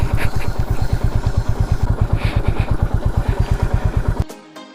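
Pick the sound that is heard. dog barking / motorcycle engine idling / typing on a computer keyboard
motorcycle engine idling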